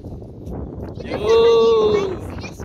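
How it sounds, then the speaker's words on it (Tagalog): Gusty wind buffets the microphone throughout at a mountain viewpoint in Kalinga, Philippines, with a drawn-out voice rising over the rushing noise midway. "Mahangin! Sarap ng hangin, Riley!"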